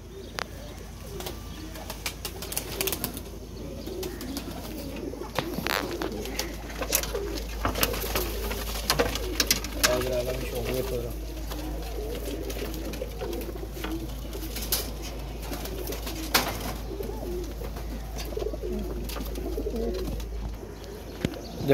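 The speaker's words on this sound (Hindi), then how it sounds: "ये देखें जी कबूतर भी" Pigeons kept for a flying competition coo softly in a loft, low murmuring calls repeating under a steady background hum, with a few flutters and bird chirps scattered through.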